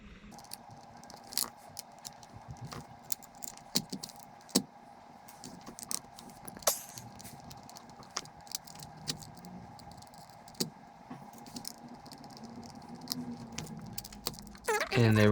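Small metal screws are unscrewed from a QiYi magnetic clock puzzle, giving soft scattered clicks and light metallic ticks at close range, irregular and quiet, with a louder handling rustle at the end.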